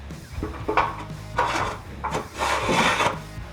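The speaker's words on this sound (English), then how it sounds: "So the side just slides right in, just like that, on both sides." The side piece of a Hooke Road bed rack for a Jeep Gladiator slides into place with a rough scraping rub and scuffs that come in a few close, uneven surges.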